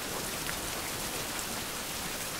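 Steady rain falling in a survival video game, a dense, even hiss of drops on surfaces, close and unbroken, with no voices.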